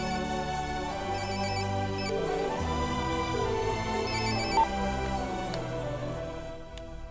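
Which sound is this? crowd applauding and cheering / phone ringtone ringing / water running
phone ringtone ringing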